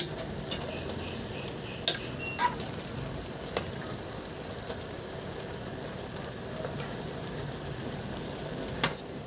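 Saluyot leaves being stirred into a fish and vegetable soup in a pot, with a low steady scraping and bubbling bed and a few sharp utensil clinks against the pot, heard close and alone.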